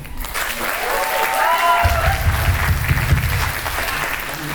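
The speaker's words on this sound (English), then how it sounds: "And give a round of applause for Zach." An audience at a school cabaret night bursts into applause, sustained clapping from a crowd building up and continuing, with a voice briefly heard at the start.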